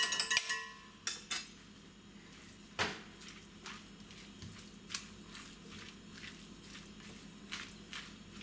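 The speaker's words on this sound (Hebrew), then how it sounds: "אנחנו מערבבים את הכל ביחד." Corn and tuna salad being mixed with mayonnaise and a pinch of salt, giving soft wet squishes and occasional utensil clinks against a bowl, with a few sharper scrapes spaced out over a quiet background.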